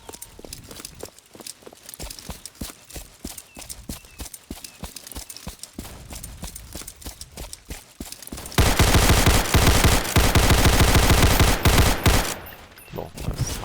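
Assault rifle gunfire in Roblox, with scattered single shots and footsteps giving way to a loud sustained automatic burst, then a few more shots.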